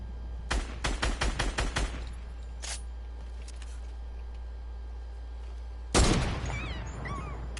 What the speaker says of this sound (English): I might have to try to spray him with the AR.